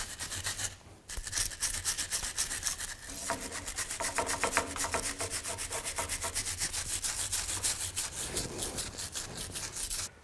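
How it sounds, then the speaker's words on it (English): A wire brush scrubs rust off the rusted differential cover bolts of a 2000–06 Chevy Tahoe, a steady rapid scratching that runs nearly nonstop after a brief pause near the start, close and loud with no talk. "I'm just going to take a wire brush, just try to clean up some of the rust."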